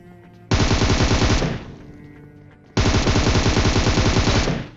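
Automatic weapon fire in the battle royale game PUBG Mobile, two loud sustained bursts of rapid shots about a second long each, separated by a short quieter gap, with no speech.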